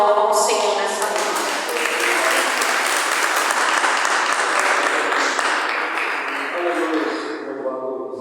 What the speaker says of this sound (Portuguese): As palmas louvam o Senhor nessa noite.